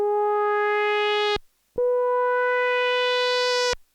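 Stylophone Gen X-1 synthesizer playing two sustained buzzy tones, the first starting instantly with a fast attack, then after a short gap a second held note; clear, loud and alone with no talking.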